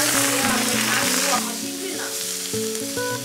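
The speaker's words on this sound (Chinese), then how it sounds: "把青菜炒一下" Green vegetables stir-fried in a little oil in a wok in a rural kitchen; a steady crackling sizzle runs under prominent background music throughout.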